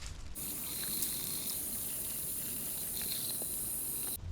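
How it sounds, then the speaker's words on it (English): Water pours steadily through a hose outside a forest cabin in the Carpathians, a constant close hissing gush that fills the whole stretch with no voices. "The owners directed the water through this hose"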